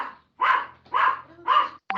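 A mixed-breed dog gives three sharp, high-pitched barks at an even pace, with the start of a fourth cut off at the end. The barks are close and clear, with quiet gaps between them and no talking.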